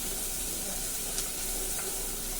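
Chili paste with garlic, cumin and salt sizzling in a hot pan, an even close hiss of frying with faint spits and stirring, no voices.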